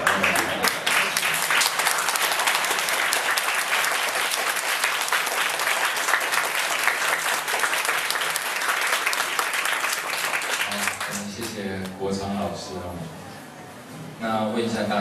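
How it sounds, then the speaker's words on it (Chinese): A standing audience at a political rally gives sustained, dense applause for about eleven seconds, then the clapping thins out and voices come in near the end. "大家可以站起来鼓掌，没有关系。"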